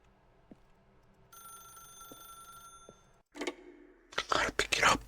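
A telephone in the video game The Stanley Parable rings with a bright, steady electronic tone lasting over a second, set over quiet ambience with soft thuds, followed by bursts of whispered voices.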